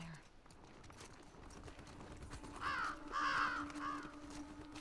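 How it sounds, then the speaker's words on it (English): Crows in the video game The Last of Us Part II caw several times in a short burst, rising over quiet ambient game sound with faint footsteps and a low hum. "crows alert in our presence"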